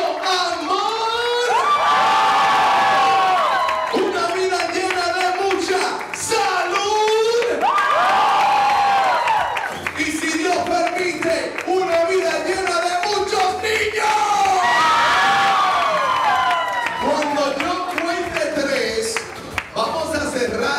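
Guests at a Christian wedding reception in Westbury, Long Island shout and cheer loudly in sustained group yells, rising and falling in several waves, with some voices carrying over the crowd.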